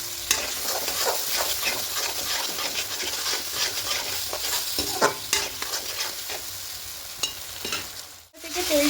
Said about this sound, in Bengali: এবার দিয়ে খুব ভালো করে 2-3 মিনিট কষিয়ে নেব